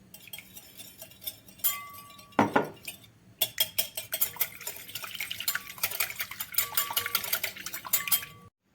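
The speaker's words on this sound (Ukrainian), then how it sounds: "миску додаю одне яйце і розбиваю його вінчиком" An egg being beaten in a bowl with a wire whisk for kefir pancake batter: a few stray clinks, then a rapid, continuous rattling of metal wires against the bowl, close and fairly quiet.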